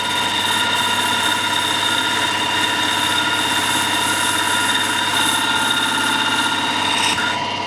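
A Stuart model steam engine runs steadily at 1,000 RPM, a continuous mechanical hum with whining tonal overtones and a fine rapid beat, loud and even throughout with no voices.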